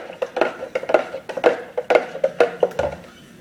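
Homemade chum bait is stirred in a container with a utensil, giving a run of close, rhythmic clinks and scrapes about twice a second, and no voices are heard.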